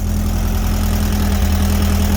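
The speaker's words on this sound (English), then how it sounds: "But she's idling now." A VW-powered sandrail engine idles on a cold morning just after starting, giving a close, loud, steady low rumble with an even throbbing pulse and no voices over it.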